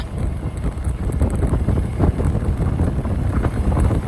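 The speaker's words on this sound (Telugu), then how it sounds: "చల్ల గాలి వస్తుంది అన్నమాట." Blustery wind buffets the microphone with a constant low rumble and gusty roar, no voices.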